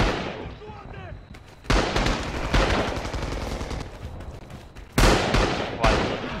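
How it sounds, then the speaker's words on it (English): Rapid gunfire in the World War II shooter Rising Storm, loud bursts and single shots cracking repeatedly, with a heavy volley near the start and another burst toward the end, voices faintly underneath. "stop shooting your own freaking guys"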